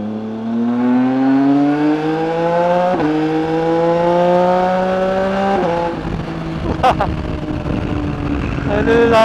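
A Yamaha Tracer 9 GT motorcycle ridden hard, its engine note climbing steadily through the gears with sharp shifts between pulls, loud and close. Wind buffets and brief rattles come near the end.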